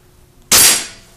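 BB gun pellet striking a metal spoon gives one sharp, bright ringing hit that rises suddenly and fades over about half a second, with no voices around it.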